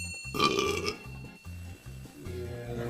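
Repeated burps from a man, several short low bursts in a row, loud and close, with a brief voiced sound near the start.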